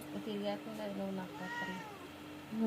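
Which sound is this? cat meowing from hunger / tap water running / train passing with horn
cat meowing from hunger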